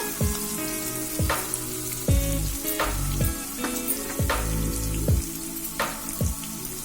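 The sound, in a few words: frying raw tamarind chutney with garlic and curry leaves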